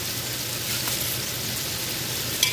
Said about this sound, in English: The oil from the sausages, we're going to need that. So let's get those browned up.